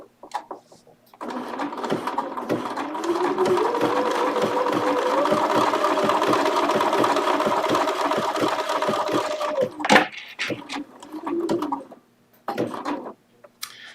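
A Bernina sewing machine runs a straight basting stitch in one long continuous whirring burst of about eight seconds, close and loud, with its motor pitch rising as it speeds up, framed by handling clicks before and after.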